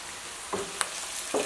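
Tomatoes frying in a pan give a soft, steady sizzle, broken by a couple of brief stirring scrapes or clinks, with no talking.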